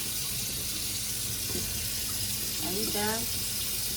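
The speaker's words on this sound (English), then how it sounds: "my baby is washing the plate" A toddler washes a plate under a running kitchen tap, with a steady close stream of water splashing throughout and an adult voice speaking briefly over it.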